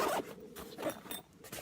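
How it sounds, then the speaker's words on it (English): A zipper closing on a carry bag for an Anglo Arms Scorpion crossbow, heard as a few quick, close zipping strokes separated by short pauses, with no talking. "Good zip."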